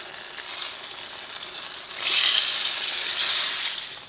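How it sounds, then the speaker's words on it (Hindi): Chicken is frying with mashed-down tomatoes in a karahi for dhaba-style chicken karahi, giving a steady close hiss of sizzling that swells louder partway through as the pieces are stirred in, with no talk. "साथ ही इसमें चिकन भी ऐड कर दें।"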